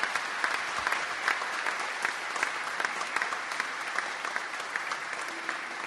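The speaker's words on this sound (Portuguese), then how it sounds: "Peço uma salva de palmas ao deputado Conte Bittencourt." An audience claps steadily throughout a tribute ceremony for a bar association president, honouring a state deputy: a dense, even patter of many hands with no voices over it.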